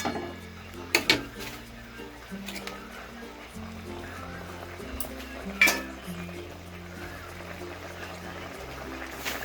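A pot of Bengali ridge gourd and potato fritter curry is stirred, with occasional spoon scrapes and clinks against the pot over soft background music.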